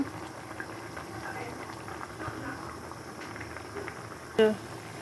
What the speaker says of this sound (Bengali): জলগুলো সুন্দর ফুটতেছে